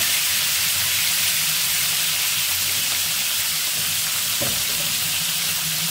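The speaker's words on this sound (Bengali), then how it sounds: "মাছ রেখে দিয়ে আমি মাছ ভুনা করব। লাল লাল করে ভেজে নেব।" Fish frying in hot oil before being made into a fish bhuna, a loud, dense, steady sizzle and crackle close by, with a brief scraping stir near the end and no talk.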